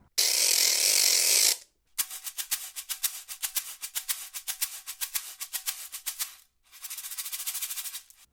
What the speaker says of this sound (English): Old ratchet.